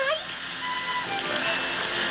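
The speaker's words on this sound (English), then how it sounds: "it's raining cats and dogs out there" Heavy rain pours down outside at night near a parked car, a steady dense hiss that holds evenly throughout.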